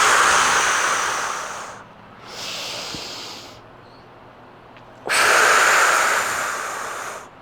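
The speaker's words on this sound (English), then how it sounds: "get that extra sniff to encourage it to come down" Strong nasal sniffing inhalations during a Pilates mat breathing exercise, a long loud breath followed by a shorter softer one, a pause, then another long loud sniff, close to the microphone with no talking.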